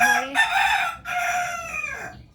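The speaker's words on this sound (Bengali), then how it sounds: "ঘরে আসলেই মোরগের জ্বালায় কথাই বলা যায় না।" A rooster crows loudly and close by, one long drawn-out call with a brief break in the middle, no voices around it.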